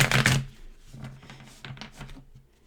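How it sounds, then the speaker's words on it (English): Oracle cards being shuffled at a tarot-style reading table, a loud riffling burst at the start followed by several softer, quick shuffling and tapping sounds. "I'm going to shuffle and deal your oracle cards."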